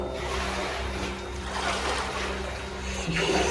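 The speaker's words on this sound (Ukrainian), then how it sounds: "Це річка Дарниця, отруєна" Water flows steadily through the underground Darnytsia river channel in an enclosed space, a continuous close rushing wash with a low hum beneath it and no talk.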